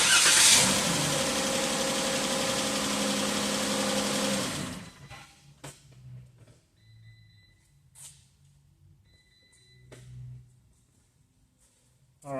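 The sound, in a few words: Pentastar engine cranking and running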